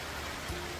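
Rain falls steadily in a clean village, a soft, even hiss of drops pattering on surfaces without pause for under a second.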